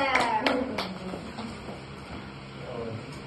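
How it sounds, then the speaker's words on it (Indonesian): A classroom audience claps briefly for a student during a microteaching practice lesson, a few sharp hand claps near the start that fade into room murmur. "Kasih aplaus untuk Mbak Cindy dari kelompok 3"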